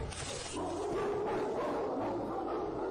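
A dog barks and yips repeatedly at close range in a short, agitated burst.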